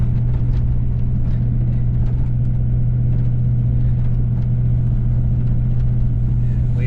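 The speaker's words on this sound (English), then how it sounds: "We are plowing, just so you guys know." Pickup truck engine running steadily while plowing snow, a loud, constant drone with a low hum that holds through the whole stretch without letup.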